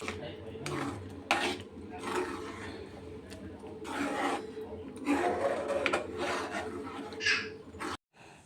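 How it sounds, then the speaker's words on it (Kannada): Fried dry fruits stirred into carrot kheer in a pot: a steady scraping, rubbing stir with repeated rasping strokes, close and moderately loud, ending abruptly. "ಅದನ್ನು ಇದಕ್ಕೆ ಹಾಕಿ ಆ್ಯಡ್ ಮಾಡ್ಕೋತಾ ಇದ್ದೀನಿ ನೀಟಾಗಿ ಮಿಕ್ಸ್ ಮಾಡ್ಕೊಂಬಿಟ್ರೆ ಕ್ಯಾರೆಟ್ ಕೀ ರೆಡಿ ಆಗೋಗುತ್ತೆ"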